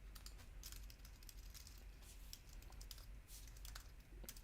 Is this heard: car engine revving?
no